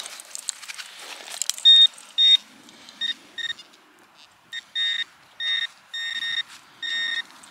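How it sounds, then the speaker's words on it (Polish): Metal detector sounding off over a signal while searching at the site of an old inn, giving a run of loud, close, high-pitched electronic beeps in short bursts and longer tones, heard alone without talk. "Jest sygnał."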